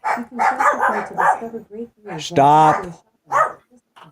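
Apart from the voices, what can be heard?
dogs barking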